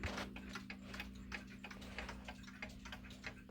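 A 1915–1925 Adamantine E. Ingraham Co. mantel clock ticks in an even, quiet rhythm, each tick a faint click heard close and alone over a low hum.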